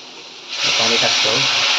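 Hot water pours into a pan of Malvani-style tender cashew masala, a steady loud hissing, steaming rush that starts about a third of the way in and continues to the end.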